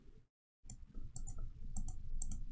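A few light mouse clicks while drawing coastline on a computer map in Worldographer, quiet and sharp, spaced out after a short silence, over faint background noise.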